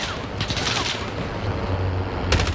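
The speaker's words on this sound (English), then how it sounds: "there's another team shooting, let's just dip" Another team shooting in the video game Warzone: a rapid burst of gunfire at mid distance, then a short steady rattle and a sharp closing volley over a constant background hum.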